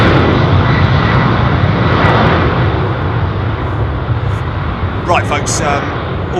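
A fixed-wing airliner roars steadily and loudly at London Heathrow Airport, its broad engine noise filling the whole clip, with a voice briefly audible near the end.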